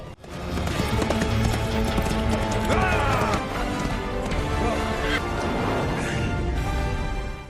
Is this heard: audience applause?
no